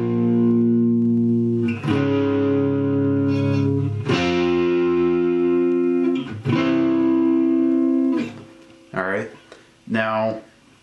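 Electric guitar on a neck pickup with volume rolled back for a clean tone, playing a song's pre-chorus riff: sustained power chords struck in steady repeated bursts, loud and close, ending with shorter picked chords.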